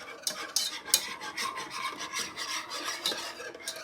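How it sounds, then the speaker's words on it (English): A whisk beats through a Parmesan garlic sauce for a keto Tuscan chicken casserole, quick rhythmic scraping strokes against the pan, close and busy, with no speech. "so I'm going to go back and whisk it"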